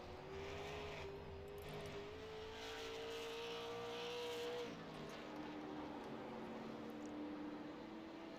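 Race car on a timed run at the Thompson Super 50, its engine note rising and holding as it passes at a distance, then settling into a fainter steady drone.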